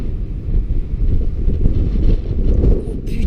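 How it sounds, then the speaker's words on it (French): Strong wind buffets the microphone ahead of a hailstorm in Tour-en-Sologne, a loud, continuous low roar and rumble with no pause. "Oh, c'est fort là le vent."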